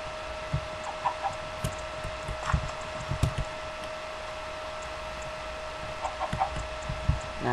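A chicken clucks in a video game, sounding as a run of soft, irregular clucks and light knocks over a steady ambient hum, moderately close, with no talking.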